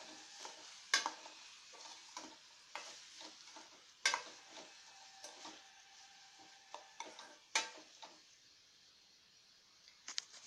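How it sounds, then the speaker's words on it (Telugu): Onion pieces and green chilies fry in oil with turmeric and salt, a soft steady sizzle punctuated by sharp clicks and taps of a spoon against the pan, quiet and nearby. "ఇలా 2 మినిట్స్ ఉల్లిపాయల్ని వేయించుకుందాం."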